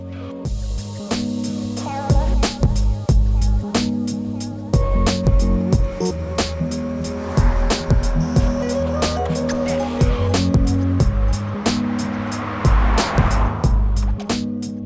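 A 2019 Hyundai Veloster Turbo coupe on the move, its engine and tyres making a steady droning hum with uneven pulses and road noise, fairly loud and continuous, with no talking.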